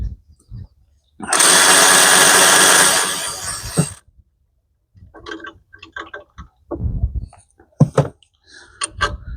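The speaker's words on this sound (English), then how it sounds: "now you can fully back this bolt out, 12 millimeter" Power tool backing out a 12 mm bolt on the alternator of a Subaru Baja: a loud, steady whir lasting about three seconds, then quieter scattered clicks and metallic clinks of the bolt and tool nearby.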